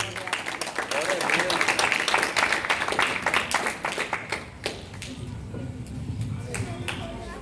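A church congregation applauds at a worship service, sharp clapping building to a dense burst, then thinning to scattered claps as a voice speaks underneath.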